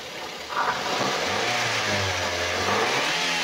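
A 2014 Daihatsu Gran Max 1.3 blind van engine revs up from idle, its low hum rising and holding steady, close by with a steady background whir.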